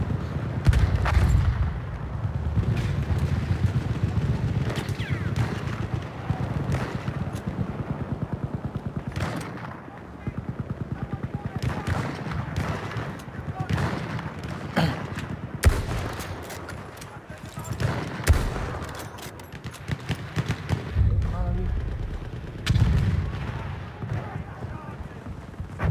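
Battlefield 1 gunfire in an online match, a dense run of sharp shots and bursts that stays loud throughout, with a few heavier booms mixed into the steady crackle.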